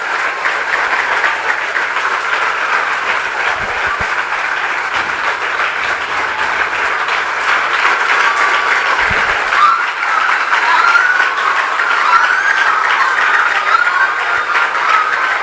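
A church congregation claps their hands together in worship. The clapping is loud, sustained and dense, a continuous wash with a few low thumps, and there is no speech.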